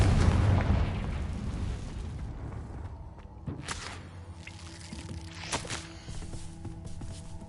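A Confringo fire spell bursts in Hogwarts Legacy, a fantasy game, with a loud low boom at the start that rumbles and fades, followed by a few sharper cracks and footsteps.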